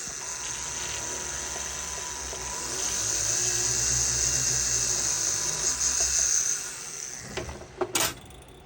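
A small jeweller's drill bores a hole through a metal pendant, giving a steady high whine that strengthens midway, holds for several seconds, then stutters and stops with a few quick bursts at the end.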